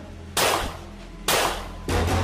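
Gunshots fired at an apparition inside an abandoned house: three sharp, loud bangs spaced about a second apart, each with a short fading tail, close and otherwise quiet between.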